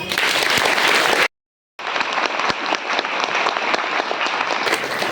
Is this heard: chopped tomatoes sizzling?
no